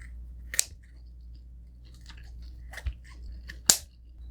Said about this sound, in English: I'm gonna cut this up and eat with the rice.